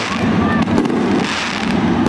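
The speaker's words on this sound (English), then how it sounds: "Fireworks shooting off." Fireworks shooting off over Attica Raceway Park during a sprint car night before the A-Main, a dense continuous crackle and boom that stays loud throughout with no pause.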